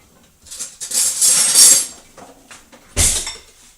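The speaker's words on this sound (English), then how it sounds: "I'll give it a little mix." A spoon stirring a teaspoon of wheatgrass powder into yogurt, giving a few soft scraping clinks against the bowl, then a brighter metallic knock near the end, close and alone.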